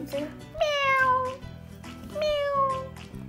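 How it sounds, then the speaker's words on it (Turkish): A nearby cat meows twice, each call rising then falling, with faint voices and household noise in the background. "Miyav mı diyor anneciğim?"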